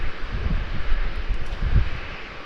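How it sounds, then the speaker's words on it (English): Qantas QF37 airliner bound for Singapore taxiing toward runway 27 at Melbourne Airport, a steady distant jet engine roar mixed with wind noise, continuous and without talk. "QF37 to Singapore taking a very unfortunate right hand turn to head down towards runway 27"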